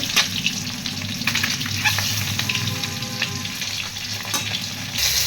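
An egg fries in a pan with a close, continuous sizzle and scattered crackling pops, with no voices over it.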